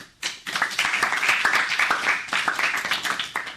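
Audience applause for a children's patriotic song performance at a school event in Bikaner, a burst of dense clapping that starts abruptly and holds steady at close range.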